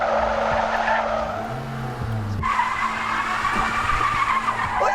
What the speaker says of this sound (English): Don't squeal your tires because you're likely to get a second traffic stop against you.